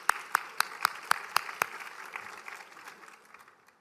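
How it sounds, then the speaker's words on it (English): Audience clapping at a law school event, beginning with a few sharp, distinct claps and then softening into a scattered patter that fades away. "Please give him a round of applause."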